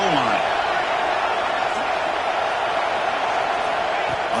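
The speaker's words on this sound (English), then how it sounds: "the crowd really making some noise now, trying to help out this defense to get this stop near the goal line" A football stadium crowd roars near the goal line, a loud, dense and sustained wall of cheering noise with a voice faintly audible beneath it.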